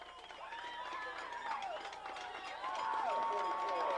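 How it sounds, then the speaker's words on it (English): A football crowd at Nicholas Field stands and cheers for the Raiders, a broad roar of voices swelling and growing louder over four seconds, with nearby talk running over it. "The crowd at Nicholas Field stands and cheers their heroes"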